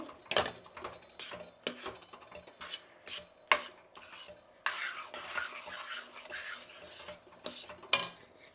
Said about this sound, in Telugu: మన బూందీ వేసుకుందాం ఇందులో. ఇలా వేసుకుంటూ కలుపుకోవాలి.